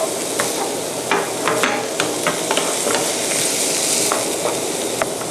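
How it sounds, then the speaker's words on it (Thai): Potatoes and carrots are stir-fried in a pan for a savoury filling, a steady sizzle broken by irregular clicks and scrapes of a spatula stirring close by. "ผัดสักพักหนึ่งนะคะเพราะว่า แครอทกับมันฝรั่งเนี่ยจะค่อนข้าง ยังมีความแข็งนิดนึง"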